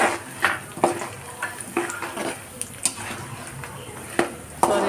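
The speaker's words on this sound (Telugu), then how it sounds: "నెక్స్ట్ శనగపప్పు, మినప్పప్పు రెండు కలిపి వేస్తున్నాం" Chana dal and urad dal fry in an oiled pan while being stirred, a steady sizzle broken by frequent light spoon-on-pan clicks and scrapes, close and moderately loud.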